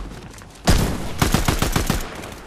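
Gunfire in a video game: a sudden loud shot at about 0.7 s, then a rapid burst of repeated cracks close by, with no talking.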